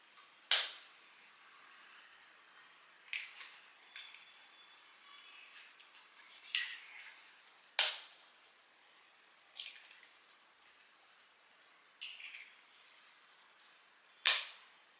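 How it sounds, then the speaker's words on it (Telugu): Three eggs are cracked into a pan of cooking Maggi noodles, heard as a series of sharp, crisp taps and cracks spaced several seconds apart over a quiet kitchen background. "నేను 3 ఎగ్స్ ఇందులో కొట్టిపోసానండి"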